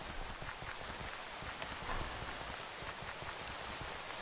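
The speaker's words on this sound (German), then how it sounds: "Es regnet." Steady rain in the video game Minecraft patters continuously at a fairly quiet level, a dense even hiss of drops with no voices over it.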